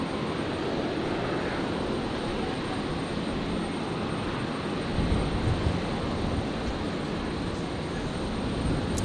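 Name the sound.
Jetstar airliner landing on runway 01 right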